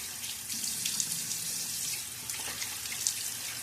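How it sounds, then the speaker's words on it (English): Water runs from a tap into a sink in a steady, close rushing flow during a wet shave, with a few light splashes. "A little quick splash of water."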